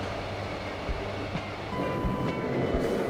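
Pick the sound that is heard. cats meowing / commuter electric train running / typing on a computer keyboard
commuter electric train running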